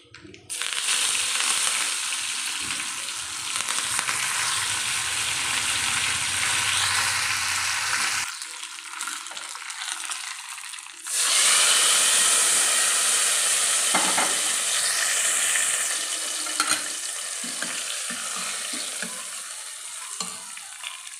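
A tempering for mashed brinjal bajji fries in a pan, giving a loud, close sizzle. The sizzle drops away for a few seconds, then resumes strongly and hisses on steadily, with no speech.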